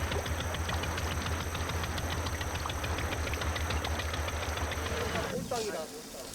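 A passenger boat's engine running on a three-hour sea crossing to Geumodo island, a loud, steady rhythmic chugging drone that drops away near the end, with talk mixed in.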